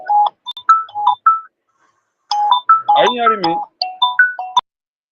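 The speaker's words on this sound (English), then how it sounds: "Your phone is ringing and is contradicting your voice." A phone rings during a call, its repeating electronic ringtone phrases sounding loud and close, while a voice speaks over the middle of the ringing.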